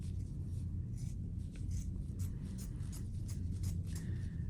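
Scissors snip through fabric during a framing craft session, a run of quick, close crisp cuts over a low background hum.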